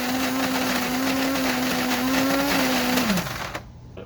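Shardor coffee grinder whirring steadily as it grinds Mayorga French roast beans, a close, even motor drone that winds down and stops at the end.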